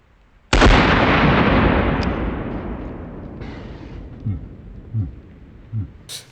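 A single loud, close gunshot strikes a cheap body armor plate on an outdoor range, a sharp blast with a long rolling decay, followed by a few faint thumps.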